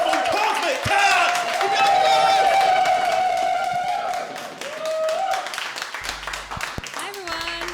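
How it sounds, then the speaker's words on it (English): Comedy festival crowd in Edinburgh clapping and cheering to welcome a comedian, a steady wash of hands and whoops under a loud sustained voice over a microphone, ending with the performer starting to speak. "Matt, start clapping your hands. Start building up. Get louder and louder and louder."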